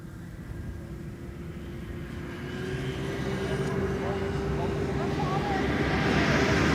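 A C-17 military transport inbound from Israel on a breezy approach to Amsterdam Schiphol's Polderbaan runway 18R, its broad jet rumble swelling steadily louder as it draws nearer.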